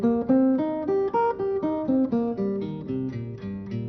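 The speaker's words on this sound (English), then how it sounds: "If I take the dominant 7th chord and lower the 3rd, I get a minor 7th arpeggio." Close acoustic guitar picks a minor 7th arpeggio note by note in a steady, even rhythm, each tone ringing cleanly alone for about four seconds.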